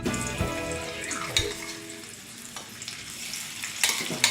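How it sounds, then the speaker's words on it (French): Small sausages sizzling in a frying pan, a steady close crackle with a few clinks and scrapes of a utensil against the pan, no one talking. "Je vais faire cuire des petites saucisses."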